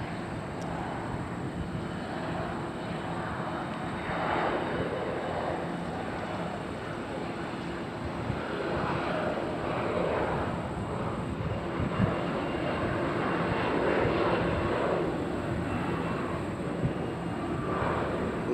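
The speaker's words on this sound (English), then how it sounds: "We got a Mitsubishi CRJ taking off by Endeavor Air." An Endeavor Air Mitsubishi CRJ regional jet takes off at Nashville International Airport, its engine roar a steady broadband rumble holding at moderate distance for the whole stretch with no voices over it.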